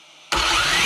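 A 1/5 scale MCD X4 RC car with a 360kv motor on a 16S battery bursts into a loud, sustained whine under acceleration. The noise cuts in abruptly after a brief quiet moment and stays close and intense.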